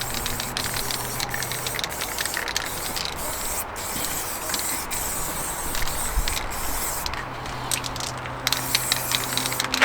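Spray paint hisses in short, repeated bursts close by as car wheels are refinished, with light rattles between passes.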